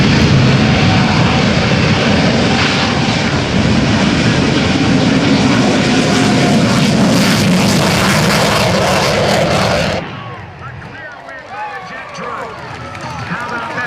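Loud, roaring jet engine blast at close range from a Shockwave jet-powered truck accelerating on afterburners at a 2009 airshow, sustained and powerful, dropping suddenly to a lower rumble with crowd noise.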